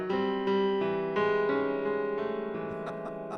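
Sustained, sour-sounding notes held together and clashing, with several soft attacks re-striking the chords at a steady, unhurried pace.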